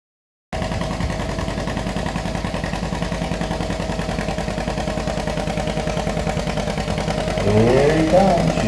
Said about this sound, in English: Nice Deere B right here. Sounds good.